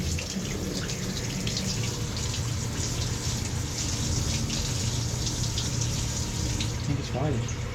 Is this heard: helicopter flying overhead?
no